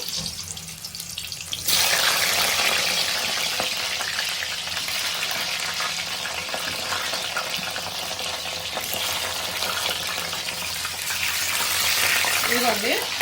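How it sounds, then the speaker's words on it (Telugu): Drumsticks dropped into hot oil, a quiet moment then a sudden loud sizzle that keeps going, bright and crackling, swelling again near the end. "ఇదిగోండి ఆయిల్లో అయితే నేను ఫస్ట్ ములక్కాయలు వేసేసుకుంటున్నాను"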